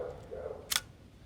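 A Zenit E Russian SLR film camera shutter closes in bulb mode with a single sharp, close mechanical click after a brief faint whir.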